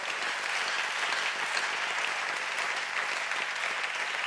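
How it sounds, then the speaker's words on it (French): A church congregation applauds during a service, with a steady, dense wash of many hands clapping at an even, moderate level throughout and no talk over it. "Est-ce que nous pouvons encore donner une bonne offrande d'acclamation à notre Seigneur?"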